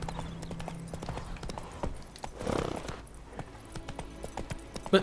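Horse hooves in The Witcher 3: Hearts of Stone clip-clop steadily at a gallop, with sharp repeated hoofbeats and a brief rushing swell midway, moderately loud and without talk.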